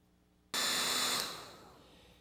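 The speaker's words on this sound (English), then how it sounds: "I just use a hairdryer for a few minutes to dry it" A hair dryer drying paint on a clay figure switches on abruptly with a loud, steady broadband whoosh, then its pitch drops and the airflow tails off a little, with no talking.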